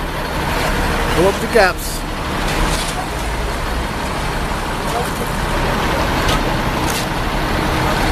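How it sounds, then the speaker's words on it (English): A concrete truck idles and rumbles on a city street during subway grating repairs, a low steady engine drone mixed with traffic noise while someone talks over it. "Concrete truck, pulling it up."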